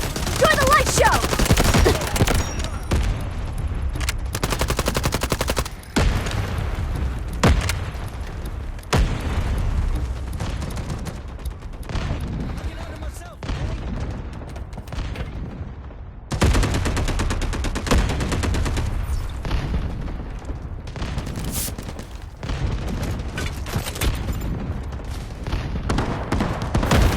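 Artillery barrage in the mobile shooter Delta Force Mobile, a long run of loud repeated booming impacts and crackling blasts arriving in uneven bursts with brief lulls between them.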